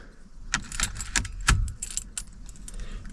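Keys jangle in a truck's ignition lock cylinder on a squarebody pickup, a few bright metallic rattles in quick bursts, close and clear, as the key is turned.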